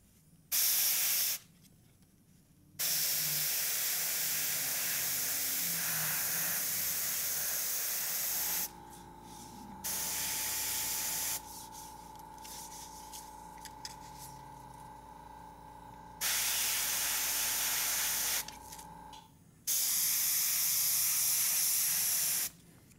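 Airbrush spraying paint through a texture stencil onto a zombie-themed background, with long steady hissing bursts broken by short pauses and a low compressor hum between sprays.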